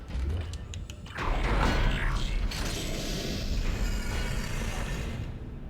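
In Dead Space, a heavy sci-fi door mechanism creaks and grinds open, starting with a few ratcheting clicks and then a loud, sustained mechanical rumble that fades out at the end.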